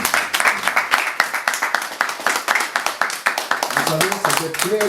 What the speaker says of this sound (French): May clap our hands.